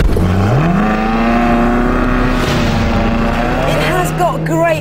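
Ferrari sports car in its sportiest drive setting, engine droning loudly and steadily with a rising pitch as it accelerates, over continuous road and wind noise, with a faint voice over the engine.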